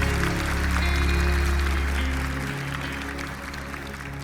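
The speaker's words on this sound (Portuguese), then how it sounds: "E pode aplaudir ao Senhor Jesus aí" A church congregation claps together in a sustained burst of applause over steady background music, the clapping gradually thinning toward the end.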